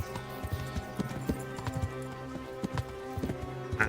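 Horse hooves clip-clopping at a steady trot in the medieval video game Kingdom Come: Deliverance, a continuous close rhythm layered over a droning musical score.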